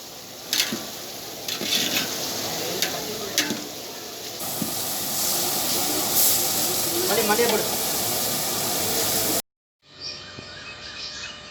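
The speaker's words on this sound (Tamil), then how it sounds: "இதையும் வெங்காயம் தக்காளியோடு சேர்த்து வதக்குறாங்க." Onions, tomatoes and leaves are sautéed together for a home-style biryani, with a steady loud hiss and sizzle of steam and occasional stirring, ending in an abrupt cut to a quieter hissing pan.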